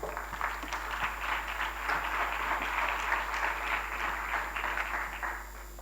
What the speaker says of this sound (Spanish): Un aplauso para ambos.